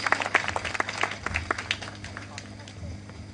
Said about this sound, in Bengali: ওনার জন্য আরো একটু জোরে হাততালি দেই।